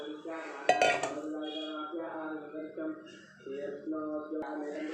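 A ladle stirs gram flour batter into a boiling pot of vegetable sambar, clinking against the metal pot in short scrapes and taps, with a person talking over it.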